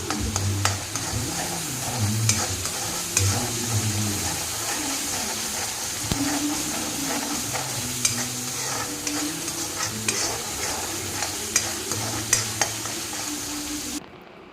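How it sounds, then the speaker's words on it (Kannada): Ginger garlic paste sizzling and frying in a pan for chana masala, a steady broadband hiss with repeated scraping stirs throughout, close and fairly loud, without talk. "ಈಗ ಇದಕ್ಕೆ ಶುಂಠಿ ಬೆಳ್ಳುಳ್ಳಿ ಪೇಸ್ಟ್ ಹಾಕಿ ಹಸಿ ವಾಸನೆ ಹೋಗೋ ತನಕ ಚೆನ್ನಾಗಿ ಫ್ರೈ ಮಾಡಬೇಕು"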